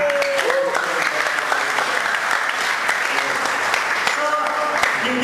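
Church congregation at a preacher's service claps together in a sustained, steady burst for about five seconds, fairly loud and even, with faint voices mixed underneath.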